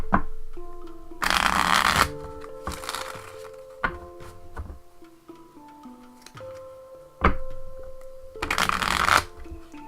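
Tarot cards being shuffled by hand, several loud riffling bursts separated by softer taps and card handling, with faint background tones between shuffles.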